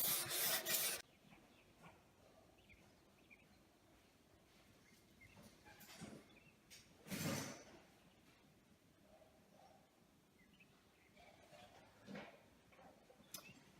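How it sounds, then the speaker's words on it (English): A sanding block rubs over painted kitchen cabinet edges during final sanding, giving quiet scattered rasping strokes with a few louder sweeps near the start and middle. "This sanding block that I've been using really helps, especially when you're burning the edges like this."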